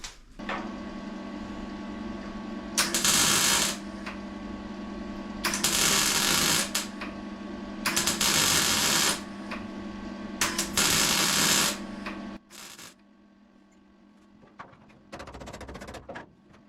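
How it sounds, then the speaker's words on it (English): Bursts of MIG welding on a sill repair panel of a two-door Mk2 Ford Escort crackle loudly in four spells of one to two seconds each, over a steady electrical hum, then some lighter clatter follows. "So I'll just get on with welding that up now"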